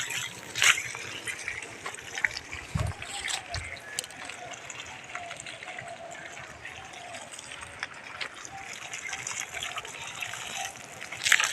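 Water trickles and gushes steadily while a pumpkin plant in a garden is watered, a soft, continuous flow with a few faint knocks.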